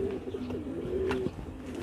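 High flyer pigeons cooing nearby, a few soft, low, rolling coos in quick succession over a faint background.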